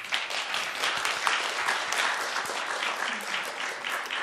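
A forum audience breaks into dense, steady applause after a presentation on green building, many hands clapping together at an even level from start to finish, full and close, with no voices standing out.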